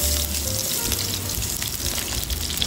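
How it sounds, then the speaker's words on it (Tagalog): Onion sautéing in olive oil in a pan, a steady loud sizzle and crackle that holds without pause from start to finish. "gisa lang natin itong onion."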